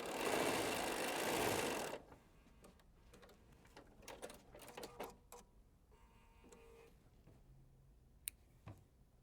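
A sewing machine stitches a quilt block in one loud, continuous run for about two seconds, followed by scattered clicks and fabric handling noises.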